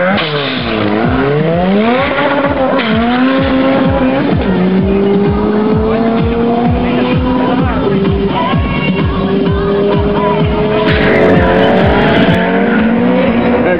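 Honda car at an international Honda meet doing a burnout, its engine revving hard with long continuous tire squeal and skidding, loud and close for the whole stretch.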